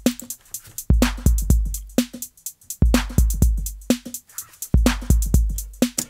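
Electronic drum beat built in Bitwig Studio with a clap added: steady kick and hi-hat pattern plus a sharp clap landing on the backbeat, looping clearly and loud with no voices.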